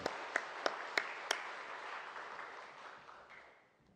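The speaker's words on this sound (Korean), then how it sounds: "우리 하나님께 영광의 박수 한번 드립니다." Church congregation at a Sunday service applauding, a few sharp claps opening into a faint, spread-out patter that fades away.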